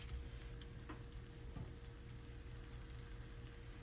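Chikuwa lumpia stuffed with cheese shallow-frying in moderately hot oil over low heat, a soft, steady sizzle and faint crackle close by, quiet and continuous without talk.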